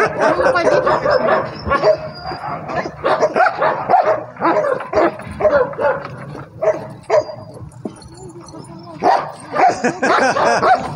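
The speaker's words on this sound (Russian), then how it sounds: "Такие у нас есть собаки." Several dogs, huskies among them, bark and yip repeatedly at close range at a dog shelter, with whimpers mixed in and people talking over the barking throughout.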